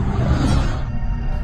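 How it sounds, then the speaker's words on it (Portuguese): Werewolf grunt sound effect: a short, loud, close beastly roar-like grunt, rough and low, trailing off after about a second, heard alone. "Grunhidos."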